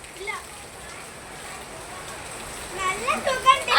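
Rain falls steadily outdoors as a continuous close patter, while voices talk over it now and then.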